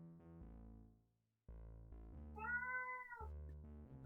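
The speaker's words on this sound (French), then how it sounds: "Avec mon chat qui chante." Pet cat meowing in a room over a background of musical tones, with one clear drawn-out meow standing out partway through.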